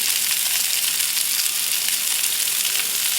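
Rice and noodles frying in oil on a Blackstone griddle make a steady, loud, hissing sizzle. It stays unbroken and close throughout, with no voices.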